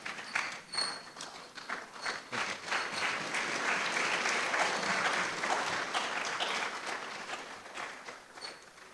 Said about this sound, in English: show an appreciation by giving Professor Wosornu a standing ovation